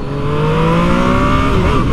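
A Yamaha MT-09 motorcycle engine pulls hard under acceleration, a loud close rising drone with the pitch climbing steadily throughout, no voices.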